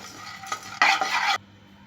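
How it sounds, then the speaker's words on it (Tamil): Ingredients dry-roasted in a pan without oil, stirred with a utensil, while making a masala-free kuzhambu. Soft scraping gives way to a brief louder rustling, scratchy burst of stirring that then stops abruptly. "எண்ணெய் இல்லாமல் ட்ரையாக வறுத்துக்கிறேன்."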